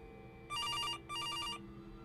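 In the horror video game Case Animatronics, a telephone rings in two clear bursts separated by a short pause, a bright electronic bell tone over a quiet background hum, with no one speaking.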